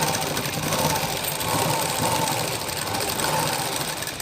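A sewing machine runs steadily as it stitches a side seam in fabric, a continuous close mechanical whir with a fast even rhythm throughout, with no talk over it.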